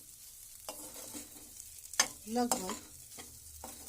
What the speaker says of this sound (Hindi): 5-6 मिनट तक इस तरह से आप इसको लो फ्लेम पर फ्राई करते रहेंगे।